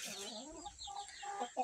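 Chickens cluck in short, close bursts at a backyard poultry yard, a few irregular calls over a brief stretch with low background noise.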